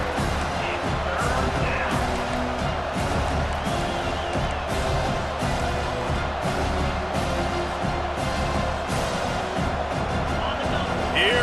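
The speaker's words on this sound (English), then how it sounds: "Here comes this home crowd as the defense tries to get off the field on third down." A home stadium crowd roars in the College Football 25 video game during a third-down defensive stand, a constant, washy wall of noise under steady play-by-play commentary.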